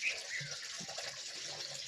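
Water poured steadily into a container while lemon juice is made with nungu palm fruit, a continuous soft splashing rush lasting the whole moment with no talk.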